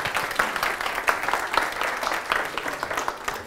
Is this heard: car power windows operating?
no